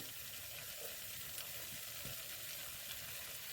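Smashed garlic cloves and lemon citrus sizzle steadily in butter in a pan, a continuous close crackling hiss with no talk.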